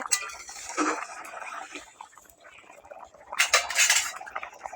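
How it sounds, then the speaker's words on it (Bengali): A metal lid is lifted off a cooking pot of papad curry, giving two bursts of clinking, scraping metal separated by a quieter pause, close and fairly loud with no talking. "এবার ঢাকাটা আমি খুলে দেখবো"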